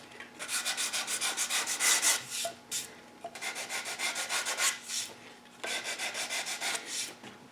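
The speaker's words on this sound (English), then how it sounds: "the original factory finishes come off just a few strokes of the 100 grit." Coarse 100 grit paper is rubbed by hand over a Winchester Model 88 wooden rifle stock to strip the factory finish. Rhythmic back-and-forth scratchy strokes come in three close, steady runs with short pauses between them.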